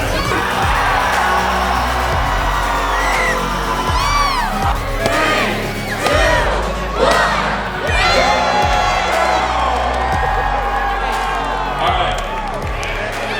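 A large crowd at the world's largest pizza party cheers and shouts nonstop, with high whoops and children's yells over a dense, loud roar and a few scattered claps.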